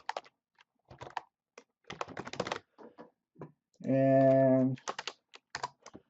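Scattered clicks of computer keyboard keys come in short uneven bursts as details are typed into a web form, close and fairly crisp. A brief voice and a sustained tone break in midway.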